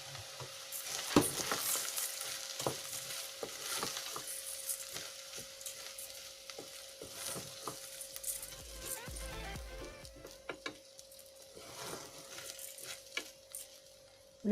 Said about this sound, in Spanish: Cuando la berenjena esté blanda, añadimos el arroz y lo rehogamos unos minutos.